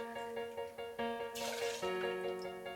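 Cocchi di Torino vermouth and Old Forester rye pour for a Manhattan cocktail with a tonal, glugging trickle and soft drips. A brief splashy burst comes partway through, close and fairly quiet, with no talking.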